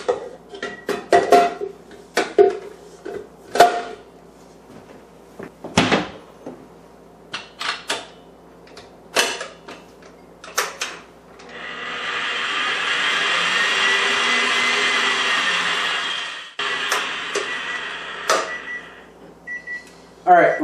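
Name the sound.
mixer beating eggs for pecan pie cheesecake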